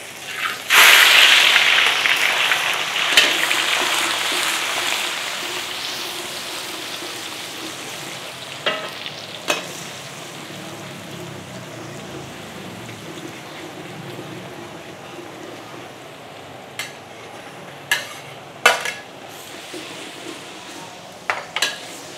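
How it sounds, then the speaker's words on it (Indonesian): Garlic and shallots stir-frying in hot oil in a kitchen, a loud sizzle bursting up at first and then settling into a steady hiss, with scattered sharp clinks of a utensil against the pan and no talk. "Di sini minyak gue udah panas. Gue bakal numis si bawang putih dan bawang merahnya dulu."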